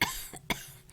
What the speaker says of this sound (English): Grace starts to basically have a panic attack and starts coughing.